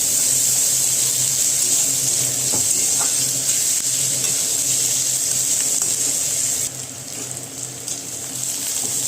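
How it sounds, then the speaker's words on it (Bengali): Chopped onion, garlic and green chilies frying in oil, a loud continuous bright sizzle close up, with a few stirring knocks and the hiss shifting slightly near the end. "এটাকে ভালো করে ফ্রাই করে নেব।"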